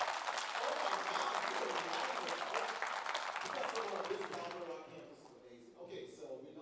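Applause from a seated audience at an education talk fills the room as a dense, steady wash of clapping, then thins and fades toward the end.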